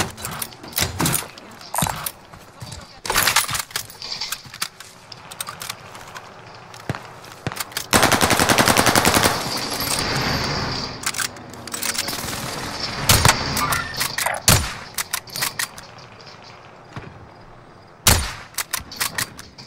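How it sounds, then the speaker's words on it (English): Gunfire in the Warzone video game: sharp, loud single rifle shots and short bursts fire irregularly over steady in-game background noise, mixed with footsteps and movement sounds. "Those gunshots are hella loud."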